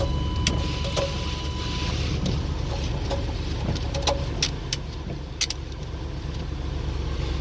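A hard-starting car, its injectors cycled before starting, now running at a steady low idle rumble up close, with scattered clicks and light rattles over it and no speech.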